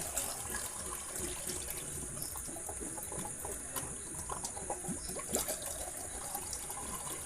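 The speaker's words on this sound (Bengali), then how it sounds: "আস্তে আস্তে দাও পানিটা আস্তে আস্তে দাও" Water poured into a diesel engine radiator trickles and splashes in a low, continuous flow, faint beneath a steady background hiss.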